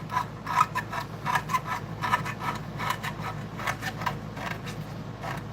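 Guitar frets being filed by hand to remove the burr, a quiet rhythmic rasping of repeated short strokes heard close up.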